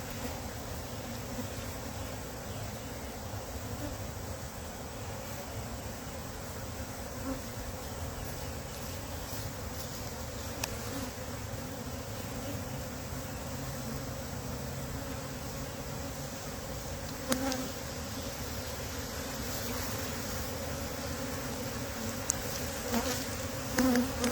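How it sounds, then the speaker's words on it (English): Honey bees swarming around a hive, a dense continuous buzzing drone from many insects close by, steady throughout with occasional individual bees passing near. "Some of them do look like they're going out, but some of them do look like they're getting ready to do their thing."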